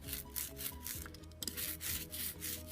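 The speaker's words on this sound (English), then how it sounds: "When you hear that sound, kind of like a crackly sound, that means that your ink is just right" A brayer rolled back and forth through printing ink on a slab makes a faint, crackly, sticky rubbing sound in rhythmic strokes, close and quiet.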